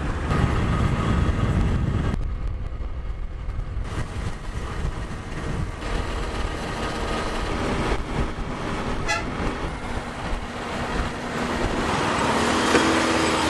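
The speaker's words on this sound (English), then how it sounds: "we do have a 30-odd minute drive to get outside of Vientiane" A car drives out of Vientiane, Laos, with a continuous loud rumble of engine and road noise heard from inside, plus passing traffic and a brief horn toot partway through.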